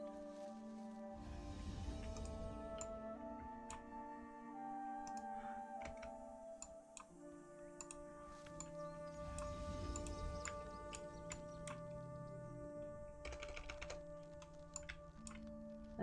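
Keys clatter in quick, uneven bursts on a computer keyboard during a World of Warcraft session, close and fairly faint, with ticking clicks scattered over a steady background hum and music-like tones.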